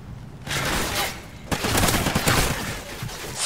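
Video game gunfire in bursts, with a short rattle early on, then a sharp loud report at about 1.5 seconds followed by sustained dense firing to the end.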